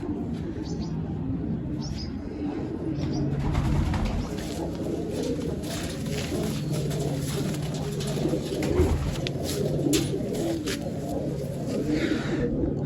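Pigeons cooing nearby in repeated low, throaty calls, with occasional faint chirps and rustling in the background.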